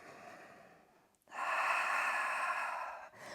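A deep breath during a Pilates teaser hold: a soft, slow exhale fades out, then after a short pause a long, strong breath rushes in close to the mic, steady and breathy for nearly two seconds.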